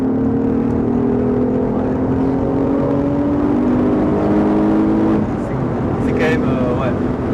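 Alfa Romeo GT with its 3.2 V6 Busso engine accelerating, a loud steady rising drone heard from inside the cabin that climbs in pitch, with one brief gear-change dip near the end.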